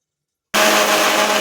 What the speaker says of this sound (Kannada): ಈಗ ಇದನ್ನೆಲ್ಲ ರುಬ್ಕೊಳ್ಳೋಣ.